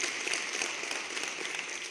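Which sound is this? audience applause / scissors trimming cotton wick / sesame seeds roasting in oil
audience applause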